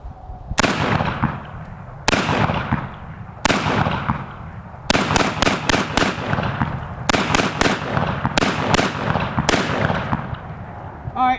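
An AK pistol fired in bursts outdoors, loud sharp cracks in rapid clusters of three to five shots separated by short pauses, each volley ringing out and decaying.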